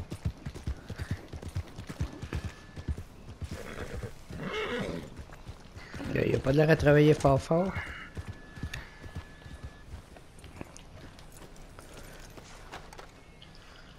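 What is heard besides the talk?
horses neighing and hooves, video game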